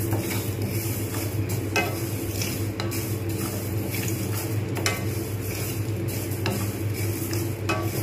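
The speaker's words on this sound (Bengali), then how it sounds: "ফ্রাইং প্যানেতে ড্রাই রোস্ট করে নেব।" Whole spices dry roasting in a frying pan, with steady scraping and stirring from a utensil, light crackle and occasional sharper clinks against the pan, close and continuous.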